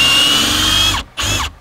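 A cordless drill drives a screw in a Ryobi, Einhell and DeWalt comparison, loud whirring motor running steadily for about a second, cutting out briefly, then revving again close by.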